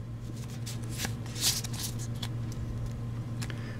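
A Pokemon Breakpoint card pack being opened and its cards handled, with soft papery rustles and small riffling bursts over a steady low background hum, close and quiet, with no talking.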